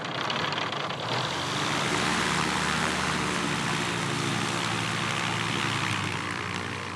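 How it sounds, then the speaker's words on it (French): An ultralight aircraft flies over a vast plateau, its propeller engine droning steadily and close, swelling slightly in the first second and then holding a loud, even buzz with no talk. "il emmène Gonzalo Diaz survoler cet immense plateau"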